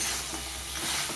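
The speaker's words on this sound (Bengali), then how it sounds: "দেখো, এই সময় আমি দিয়ে দেবো ভেজে রাখা বড়িটা দিয়েও নেড়ে চেড়ে নেব।" Fried lentil dumplings stirred into a pan of cooked potatoes, a dense close sizzle with faint stirring movement throughout, no talking.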